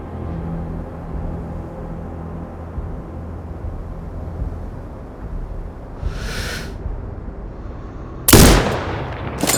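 A sniper rifle shot in the video game Sniper Ghost Warrior Contracts 2 cracks sharply near the end over a low ambient rumble, preceded by a soft whooshing sweep.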